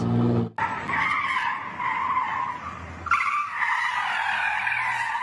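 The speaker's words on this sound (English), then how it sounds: "Watch as the driver of a white stolen Kia whips multiple U-turns in the middle of city blocks." A stolen white Kia whips repeated U-turns mid-block on city streets. Its tires squeal loudly in two long sustained skids, the second following a brief break, with engine noise underneath and no speech.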